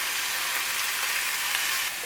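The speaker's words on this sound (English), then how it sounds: "Oh yeah, hear that sizzle?" Constant hissing sizzle of bacon strips cut in half frying in a pan for cornbread, close and steady without pause.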